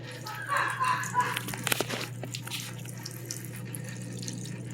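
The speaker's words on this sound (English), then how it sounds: "And some hot water." Hot water runs from a household tap while denture cushions are being wetted, a faint steady splash against a low hum with a few clinks.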